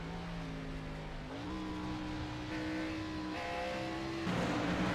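Several race cars run their final lap at Lime Rock Park, engines droning loud and steady with pitch shifts as gears change and a car roars closer near the end.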